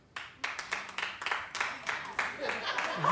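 Studio audience clapping at a daytime talk show, a scattered burst of hand claps that builds into steady, fairly close applause with voices mixed in.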